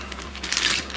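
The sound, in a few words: plastic bag of parts crinkling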